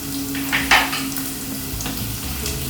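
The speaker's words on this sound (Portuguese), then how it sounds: "Primeiro dá aquela refogada braba na cebola e depois no alho" Onion and garlic sizzle steadily in a hot pan, a constant frying hiss broken by a few louder stirring scrapes.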